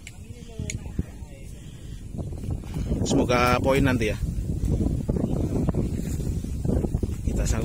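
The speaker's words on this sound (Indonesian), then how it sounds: "Tapi sayang ini agak kencang anginnya." Strong wind buffets the microphone outdoors with a constant heavy rumble that swells midway. Someone speaks over it.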